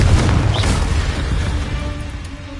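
Confringo explosion spell cast in the video game Hogwarts Legacy, a single deep boom with a rumbling burst that decays over about two seconds.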